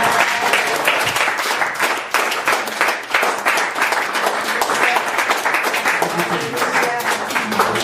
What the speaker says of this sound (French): Can we clap for her life?